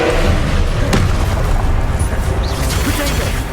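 A Confringo blasting spell in Hogwarts Legacy detonates as a loud, sustained booming rumble that fills the whole moment, heavy and close, with a voice faintly mixed in.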